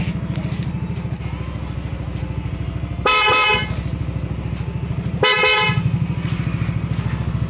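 Two short, loud horn blasts from a Yamaha Aerox scooter over a steady idling engine, the first around three seconds in and the second a couple of seconds later.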